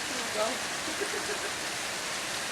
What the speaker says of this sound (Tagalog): Bumuhos na malupit, oh.